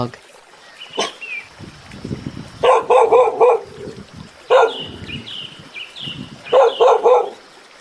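A dog barks in three clusters of quick, sharp barks, close and loud, with quieter rustling and a few faint yips between them.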